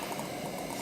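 Water warming toward a boil inside a glass coffee maker gives a steady, dense fizzing hiss with fine crackling, close and continuous with no talking.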